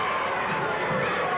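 Crowd at an EPW Night Of Thunder wrestling event, a continuous dense roar and chatter filling the space, with a commentator talking over it.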